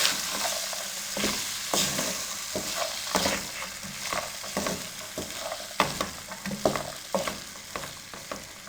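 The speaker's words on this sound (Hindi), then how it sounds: "अब इसमें बॉयल दाल चना डाल देंगे" Boiled chana dal being stirred into sizzling masala in a kadai, with a steady frying hiss and repeated scraping spoon strokes, close and fairly loud, with no voices.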